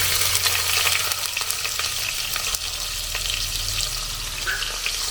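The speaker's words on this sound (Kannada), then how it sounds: "ಒಗ್ಗರಣೆ ಈರುಳ್ಳಿ ಹಾಕ್ತಿದ್ದೀನಿ" Onions frying in hot tempering oil for a neer dose kootu, a loud steady close sizzle with occasional stirring scrapes and a low background hum.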